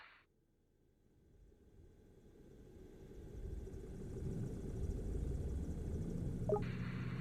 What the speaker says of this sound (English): Now you'll need to hold down the engine start button for approximately 3 seconds until the engine starts